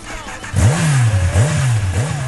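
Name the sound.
motorcycle engine revving during burnout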